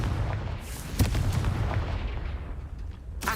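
A Confringo blast spell explodes in the Hogwarts Legacy video game, a sharp boom near the one-second mark over a rumbling game background, with a second burst at the end.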